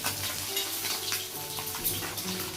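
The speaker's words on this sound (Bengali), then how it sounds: "তো এইভাবে ট্যাংরা মাছগুলো ভালোভাবে ভাজা হয়ে গেলে আমি ওপিট করে দিলাম" Tengra fish fry in hot oil in a wok as they are turned over, giving a close, steady sizzle and crackle with light stirring scrapes and no talking.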